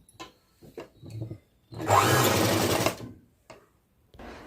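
Sewing machine stitching a long frock, running in one loud, close burst of rapid whirring stitches for about a second, framed by quieter handling clicks and rustles.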